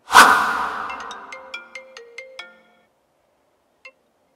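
A mobile phone rings loudly with a series of sharp, bright electronic tones that fade out, followed by silence and one faint short beep near the end.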